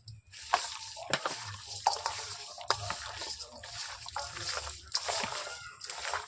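Chicken being worked by hand with oil and spices into a marinade for a red chicken curry, giving close, wet squelching and stirring squishes with soft splatter-like bursts in an irregular rhythm.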